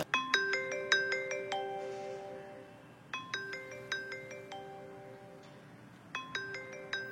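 A phone ringtone plays a repeating melodic pattern in three bursts, with short pauses between them, clear and fairly close.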